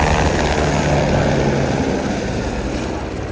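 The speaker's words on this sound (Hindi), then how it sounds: "देखो ये हेलीकॉप्टर जो आती है ना," A helicopter flies close by near the Kedarnath helipad in the mountains, a loud, continuous rotor and engine roar that fades slightly toward the end.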